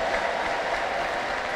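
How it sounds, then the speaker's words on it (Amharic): Church congregation clapping in praise of the Lord after a healing testimony, a soft, continuous wash of many hands heard from a distance, fairly faint and steady with no voices. "ተነሱ፣ ቁሙና ለጌታ ክብር አጨብጭቡ እስቲ።"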